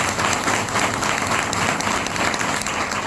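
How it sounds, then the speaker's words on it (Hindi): An audience at a business training seminar bursts into loud, dense, sustained applause, a continuous wall of clapping with no speech over it. "आप अपने अपलाइन के लिए जोरदार ताली बजाएं।"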